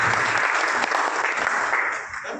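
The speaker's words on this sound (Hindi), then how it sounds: "एक बार उनके लिए जोरदार तालियों से स्वागत है" A loud, dense burst of applause from a gathered crowd welcoming a guest at an organisation's event, sustained and then tapering slightly at the end.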